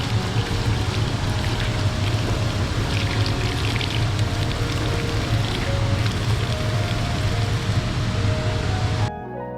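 Dudhsagar Falls in Goa roars as a steady, dense rush of crashing water, loud and continuous throughout with no voices, then cuts off abruptly near the end.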